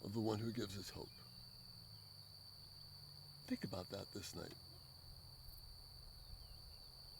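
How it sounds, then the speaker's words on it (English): Steady high-pitched cicada or cricket buzzing at night, a constant faint drone in the background while someone speaks at intervals over it. "Maybe you're hearing the cicadas in the background."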